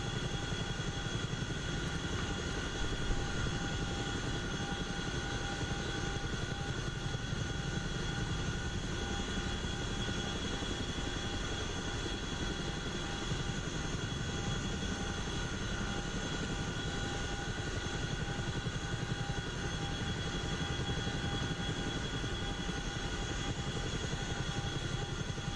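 A Chinook helicopter in the DCS flight game, with a constant loud rotor and turbine roar that drones evenly throughout, heard from inside the aircraft with no talking.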